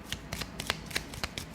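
An Egyptian Oracle card deck is shuffled by hand at close range, giving a quick series of crisp riffling and papery snapping bursts with no talking.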